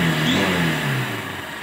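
A Honda CB Unicorn 160 BS-6 motorcycle engine revs close by, its pitch rising sharply then sliding down over under two seconds, with a dense mechanical drone throughout.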